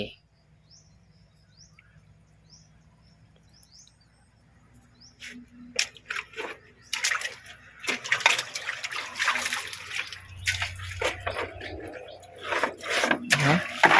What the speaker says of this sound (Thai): พุ่นน่ะน้ำไหล